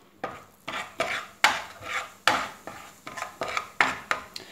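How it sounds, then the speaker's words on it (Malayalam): A utensil stirs turmeric and chilli powder into butter in a pan, making about ten rhythmic, fairly loud scraping strokes in steady succession, with no talking. "പിന്നെ അതിട്ട് നന്നായിട്ട് ഇളക്കുക."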